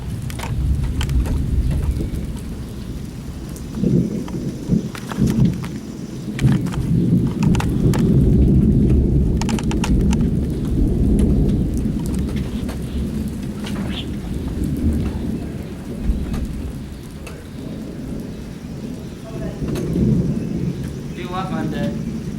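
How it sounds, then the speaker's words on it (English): Heavy rain pours steadily through a severe May thunderstorm while low thunder rumbles underneath, close and loud throughout, with faint voices now and then. "Here comes the rain."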